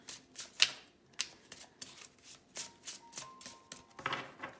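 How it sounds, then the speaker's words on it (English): A deck of tarot cards is shuffled by hand in a quiet room, soft repeated riffling and slapping bursts at a steady pace, close and fairly faint, with a brief faint tone in the background. "I'm shuffling the Dreams of Gaia tarot."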